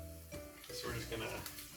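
Oil and vegetables sizzling in a pan for a gout-friendly curry, with a loud frying hiss and scraping stirs, a voice talking over it throughout.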